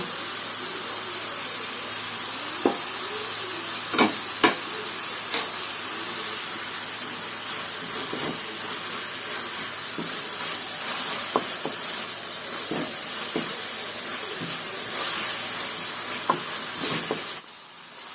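Masala and chili sauce frying in a pan, a steady soft sizzle and hiss with occasional light clicks of stirring, faint and continuous throughout.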